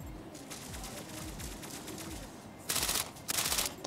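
Mech Arena game gunfire crackles in two rapid, dense bursts near the end, loud over a continuous game soundtrack.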